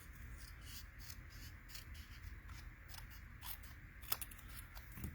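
Scissors trim a thin strip off a piece of card stock for a handmade card, making quiet, close snipping and scraping cuts in a short irregular series, with no talking.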